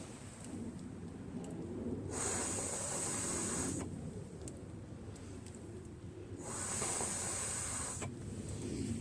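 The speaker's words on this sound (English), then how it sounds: "I'm going to put my mouth to the gas tank too and blow" Two long breathy blasts of air blown by mouth through a cracked Craftsman lawn mower's gas tank with a Briggs 6.75 Quantum engine, each hissing for about two seconds, close up, with no talk.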